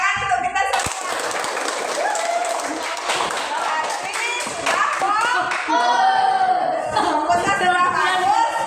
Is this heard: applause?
yes